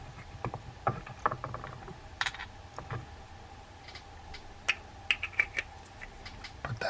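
Soft clicks and small metallic taps from a Daiwa GS20 spinning fishing reel as its rotor is fitted back on, faint and close in a quiet room, spaced irregularly.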